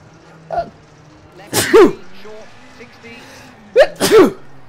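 A person with a cold sneezes loudly twice, close up, the two sharp bursts a couple of seconds apart, over a low steady hum from a rally driving game.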